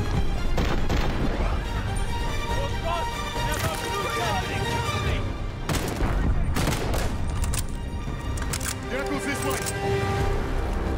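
Gunfire in Call of Duty: Vanguard pops in several sharp bursts over a loud, busy game soundscape, with someone talking throughout.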